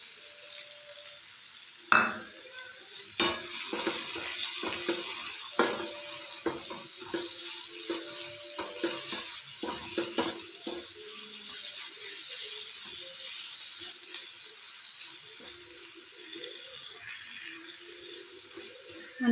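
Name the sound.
papaya halwa being stirred with milk in a pan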